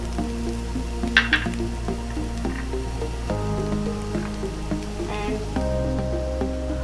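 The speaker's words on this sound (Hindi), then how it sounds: "अब हम इसमें कैप्सिकम ऐड करेंगे।" Capsicum fries in a pan for chicken spring rolls, a steady close sizzle broken by a few soft clinks and stirring squishes, with no one talking.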